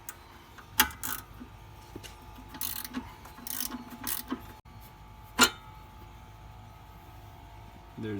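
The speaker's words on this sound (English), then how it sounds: "take off this 17mm bolt" Ratchet wrench working a 17mm bolt loose from the rear suspension of a Nissan 350Z, with quick clicking runs and a few sharp metallic clanks in a quiet garage.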